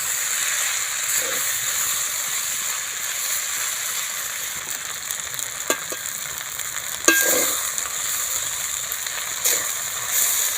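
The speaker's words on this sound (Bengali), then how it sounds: "দু রকম ভাতটাই দিয়ে দিলাম দিয়ে ভালো করে নাড়াচাড়া করে নেব" Two kinds of boiled rice being stirred in a hot pan, a continuous soft sizzle with occasional scraping clicks and a louder stir stroke partway through, no voices.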